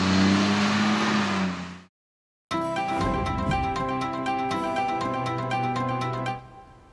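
A Cat 725C articulated truck pulls away after a brief silence, its engine note rising under steady mechanical whine and layered harmonic tones, loud and close for several seconds before easing off.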